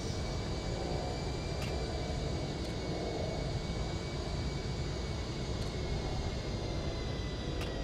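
Steady, loud drone of a propeller aircraft's engine from inside the cockpit during formation flight training, a constant roar with faint tonal whine and no talk.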